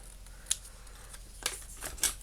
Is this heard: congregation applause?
no